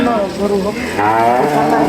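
A loud, close Holstein Friesian bull calf moos in one long, low drawn-out call that shifts pitch midway.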